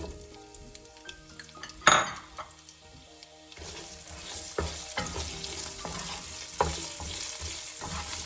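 Onion hits hot oil with cumin seeds and sizzles loudly, a sharp burst as it lands, then a steady crackling fry punctuated by spoon scrapes and clinks against the pan as it is stirred, close up and without voices.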